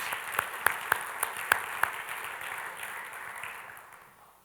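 An audience gives a round of applause for a group of off-shift laboratory workers: a few sharp claps at first, then a soft, steady patter that gradually fades out.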